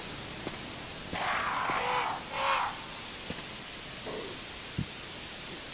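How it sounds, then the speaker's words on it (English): Crows caw a few times in two raspy bursts in the video game Resident Evil HD on PS4, fairly loud over steady hissing static, with a couple of sharp clicks scattered around. "these fucking crows are annoying"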